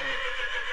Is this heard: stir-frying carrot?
no